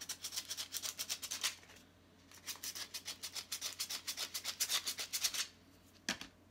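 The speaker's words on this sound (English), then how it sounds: "you can scratch it with the grinder" A grinder scratches across a zinc-coated metal piece in quick, rhythmic rasping strokes, close and crisp. Two bursts of scraping are separated by a short pause, and a single sharp scrape follows.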